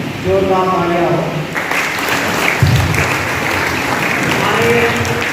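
A school audience claps for a welcomed guest, steady applause sustained across the whole stretch, with a voice speaking over the start and again near the end.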